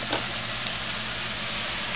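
Eggplant with seasoning, green onions, carrot and sweet peppers sizzles on a stove, a steady close frying hiss with faint stirring scrapes.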